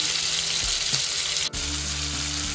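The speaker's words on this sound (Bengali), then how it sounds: "পেঁয়াজগুলো এবার একটু লাল লাল করে ভেজে নিই" Chopped onions frying in oil with bay leaf, cardamom and cinnamon for mutton curry, a loud close crackling sizzle with a brief stir and a small knock midway, no voices.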